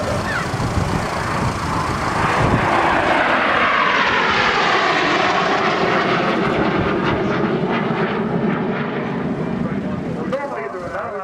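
Aerobatic display jets roar overhead at the Southport Airshow, a loud sustained engine rush that swells and sweeps past for several seconds while a commentator talks over it.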